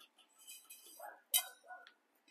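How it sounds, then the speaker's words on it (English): Glass light shade from a Palm Cove 52-inch ceiling fan, a few quiet chinks and one brighter clink as it is slid off its fitting, with faint handling sounds between. "So you should be able to slide your glass off."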